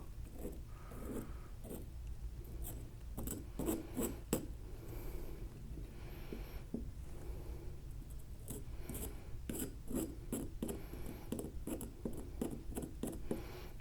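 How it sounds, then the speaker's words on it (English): A knife scraping carbon deposits off engine valves, a close, steady rasping and rubbing made of repeated short gritty strokes that come in uneven bursts for several seconds, with no voices. "I'm gonna get a knife. I'm gonna see if I can scrape this stuff off."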